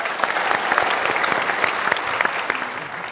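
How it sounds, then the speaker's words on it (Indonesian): An audience claps steadily for a few seconds, a dense patter of many hands at fairly close range with a few sharper individual claps standing out, and no voices. "Tepuk tangan untuk semuanya."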